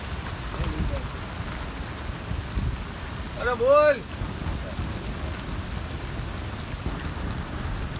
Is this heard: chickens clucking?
no